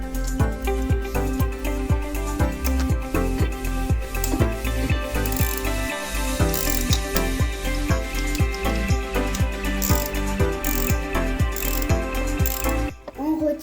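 A ratchet clicks in a fast, steady rhythm while backing a bolt out of a 110cc or 125cc dirt bike engine during a rebuild, close and loud, with no talk and a brief pause near the end.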